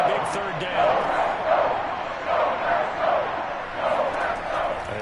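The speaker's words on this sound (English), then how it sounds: "The crowd getting into it as we come up on a big third down." Stadium crowd noise swells and surges in waves in Madden 22 football game before a big third down, a dense roar of cheering rising and falling throughout under a loud backdrop.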